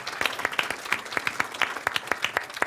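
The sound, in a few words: group applause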